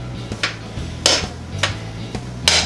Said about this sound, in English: I'm going to break apart this meatball with my spoon here